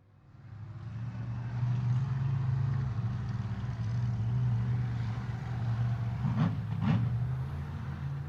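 Distant vehicle engines drone steadily in the background, their low rumble rising briefly twice near the end as throttles open, with no voices present.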